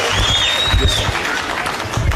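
Brief burst of clapping from a crowd welcoming a speaker at a farewell gathering in Narok, Kenya, steady and moderately loud throughout with a faint whistle-like tone near the start.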